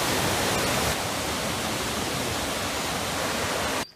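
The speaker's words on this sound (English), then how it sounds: "Kisdon Falls, Waterfalls." Kisdon Falls in Swaledale pours as a loud, continuous rushing roar, steady throughout and cutting off sharply at the end, with no voices.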